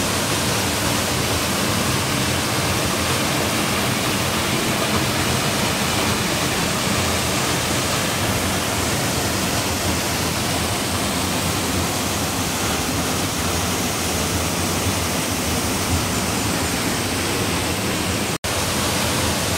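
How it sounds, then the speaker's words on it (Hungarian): Three Kings waterfall in the Boga valley, its lowest tier the most spectacular: a steady, loud, full-band roar of falling water, unbroken from start to end and heard alone, with one sharp click near the close. "Szintén a Boga völgyéből juthatunk el a Három Királyok vízeséshez, aminek a legalsó része a leglátványosabb,"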